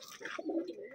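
A short, soft cooing call from a pigeon or dove, a low warbling note up close over quiet surroundings.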